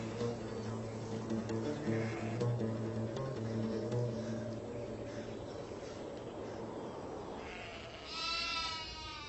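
Sheep bleat in a farm setting, with several drawn-out wavering calls overlapping near the listener. A brighter burst of sound closes the passage.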